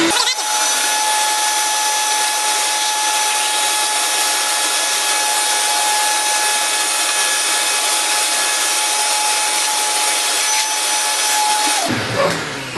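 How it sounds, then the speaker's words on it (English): A vacuum cleaner sucks dust off the wooden surface of a giant-scale RC model airplane, readying the wood for covering; a steady, loud, continuous whine runs unbroken for about twelve seconds, then cuts off near the end. "you're vacuuming to make sure there's no dust on the surface of the wood"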